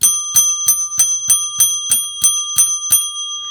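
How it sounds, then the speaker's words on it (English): A bright, ringing bell struck about ten times in a steady, evenly spaced sequence, each strike loud and close with a lingering metallic tone and no talking. "and then ring their bell"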